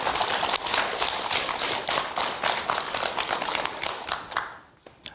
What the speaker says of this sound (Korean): 큰 박수로 저를 맞이해 주셔서